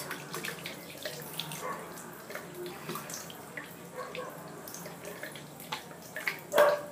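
Water runs from a tap while a face is being washed, a soft, fairly quiet splash with dripping and small splashes of water that come and go.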